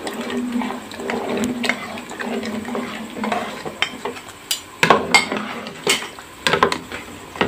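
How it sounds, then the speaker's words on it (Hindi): A spoon stirs flour batter into mutton nihari in a cooking pot, giving close, irregular clinks and scrapes of metal against the pot, with a few sharper knocks toward the end. "साथ साथ चम्मच भी चलाते जाएं"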